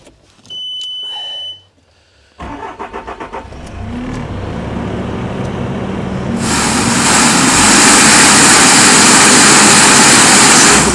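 Skid steer loader running a CAT BA18 84-inch manual angle hydraulic broom attachment: beeps, then engine noise building and revving, with a loud broad hydraulic sweeping roar rising in the second half.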